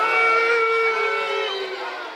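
A wrestling arena crowd produces a sustained loud wash of voices and cheering that tapers slightly toward the end, with tonal chanting or shouting layered through it.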